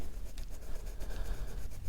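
Close, steady scratching and rubbing of a colored pencil across paper, soft and continuous with quick rhythmic strokes and no talking.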